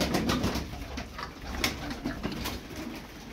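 Tumbler pigeons cooing nearby, soft repeated low murmurs layered over light background clatter and rustling.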